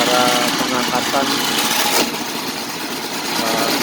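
A drilling rig's engine runs at a steady, close, rumbling idle as the machine lifts drill rods, with a brief clank midway.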